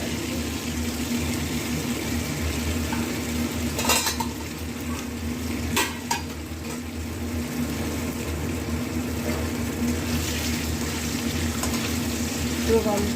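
Cumin seeds, bay leaf and whole garam masala frying in hot oil, a continuous sizzle with a few sharp clinks of a spoon against the pan, up close.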